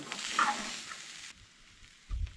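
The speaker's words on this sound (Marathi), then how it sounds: "पळोवंक शकता तुम्ही सोय कशी कितें हांगसर आमी भाजून घेता ती" Soya chunks dry-roasting in a pan, a soft crackling sizzle with a scrape of stirring that cuts off partway, followed by quiet and a low thump near the end.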